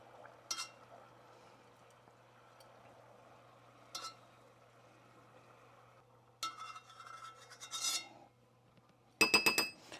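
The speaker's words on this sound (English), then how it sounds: "You can hear my spoon just kind of hugging the edge" A metal spoon scrapes and clinks along the edge of a hot pan while skimming foam from melting butter for clarified butter, in several short bursts with quiet gaps, over a faint low hum and gentle sizzle.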